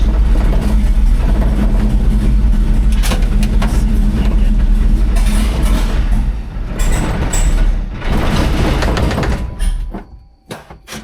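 A GMC Sierra pickup with a swapped-in 6-speed transmission drives in third gear, its steady engine drone and road rumble filling the cabin continuously before easing and thinning out near the end.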